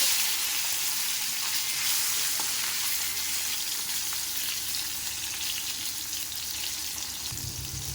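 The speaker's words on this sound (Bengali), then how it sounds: "এবার আমি ভেজে নেব উচ্ছে" Bitter gourd fries in hot oil with a constant, close, hissing sizzle that carries on steadily throughout.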